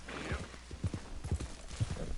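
Horse hooves clip-clop steadily in Red Dead Redemption 2, a regular rhythm of soft, close hoofbeats over a busy game background.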